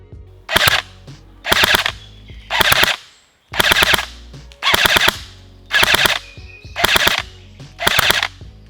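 An M249 Para airsoft replica from Specna Arms fires 0.20 g BBs through a chronograph in eight loud, evenly spaced short bursts of rapid full-auto clatter, close and alone.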